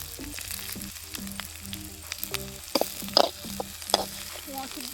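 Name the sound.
onions frying and sizzling in a pan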